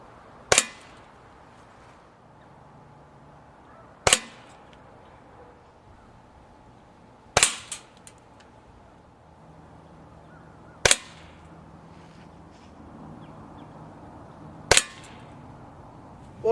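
A Gamo Viper Express air shotgun fires shot cartridges outdoors at about 30 feet. Five loud, sharp cracks come alone at an even pace about three and a half seconds apart, with quiet between them.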